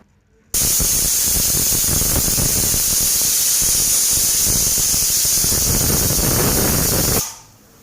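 A pressure cooker with chickpeas inside lets off a loud, continuous jet of steam, a harsh hiss that starts abruptly, holds for about seven seconds and then cuts off.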